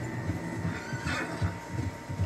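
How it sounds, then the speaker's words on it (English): Horses whinny and neigh in Red Dead Redemption 2, a close, clear call over a low rhythmic rumble of hooves and movement, with no talking. "Horses, quite a few of them."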